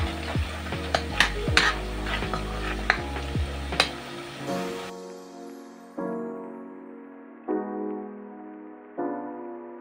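Onions sautéed in a pan for chicken biryani, with a sizzle and quick clinking stirs of a utensil against the pan, followed by several ringing metallic knocks in a quieter stretch.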